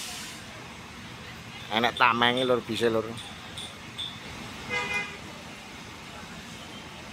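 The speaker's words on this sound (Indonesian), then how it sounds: "Disusul ada bus Dali Prima ekonomi Bojonegoro Surabaya, teman-teman" Buses pulling into a bus terminal in Indonesia, with an economy-class Dali Prima bus on the Bojonegoro–Surabaya route arriving; a short horn toot sounds amid roadway noise, with someone talking over it.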